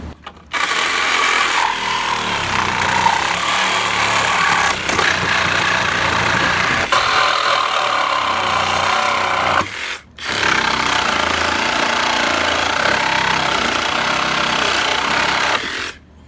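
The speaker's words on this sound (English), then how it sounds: "Now we're gonna use our Sawzall and we're gonna cut the handrail from the post." A Sawzall reciprocating saw cuts a wooden handrail free from its post, a loud, steady buzzing rasp running in two long bursts with a brief pause between them, no voices.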